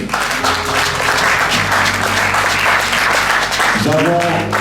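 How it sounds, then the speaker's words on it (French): A young church congregation applauding and cheering: dense, loud sustained clapping with shouts and voices mixed in, plus tonal music underneath throughout. "Acclamez d'abord pour vous-même les jeunes."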